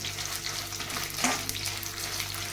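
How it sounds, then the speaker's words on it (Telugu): Dry red chillies fry in hot oil with a continuous, close hiss and crackle, steady throughout with one brief sharper pop. "అంటే ఎండుమిరపకాయ కదండి, తొందరగానే వేగిపోతుంది"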